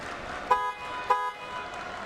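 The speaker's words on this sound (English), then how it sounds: "that buzzer there that you hear is for the final minute" Two short, loud electronic buzzer blasts sound about half a second apart to signal the final minute of a Paralympic judo match at Rio 2016, over a low arena murmur.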